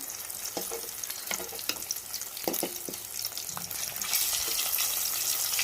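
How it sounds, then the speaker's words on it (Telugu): Dried fish frying lightly in hot oil, a steady close sizzle with scattered pops and the occasional scrape of a spatula turning the pieces, the hiss growing brighter and denser toward the end. "ఇప్పుడు ఒకటి ఫ్రై చేసుకుందాం లైట్గా."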